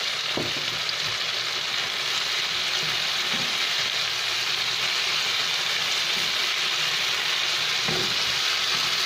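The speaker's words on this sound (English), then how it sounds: "Now we're going to add beef." Beef sizzles in a hot pan during a pork stir fry, a continuous bright frying hiss with a few soft clanks and stirring bumps scattered through, moderately loud and close with no talking.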